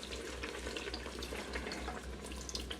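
Beef broth pours in a steady, soft liquid stream into an Instant Pot pressure cooker over a low hum, with no talk.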